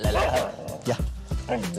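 A husky at a snowy ski area gives several short, close yips and whimpers over someone talking in French.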